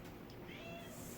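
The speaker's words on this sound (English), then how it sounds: "Sorry about my cat there." A single short meow from a cat, faint and somewhat distant against a quiet background hum.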